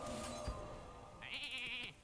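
A sheep bleats in the Hearthstone card game, one clear wavering bleat heard over a steady game background hum, preceded by a brief thump.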